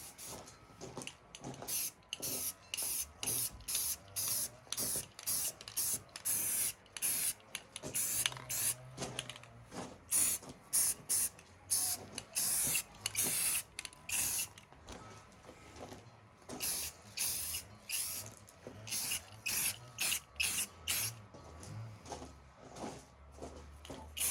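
Khaki spray paint hisses from an aerosol can onto an AR-15 rifle in a long run of short, evenly spaced bursts, close and fairly quiet, with no talking.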